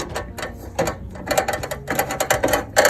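Screws turned down through the base of a grill camp stand, with a run of close, quick metallic ratcheting clicks in uneven bursts and no talk.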